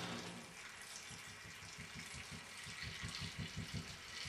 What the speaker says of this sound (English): that's dripping.